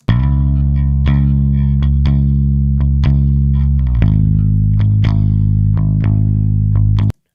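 Clean direct-input electric bass guitar playing a steady line of plucked notes with a deep sustained low end, loud and dry with no other sounds.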